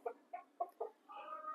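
Several hens clucking close by on a farm walkway where they take dirt baths, a run of short separate clucks followed by a longer drawn-out call.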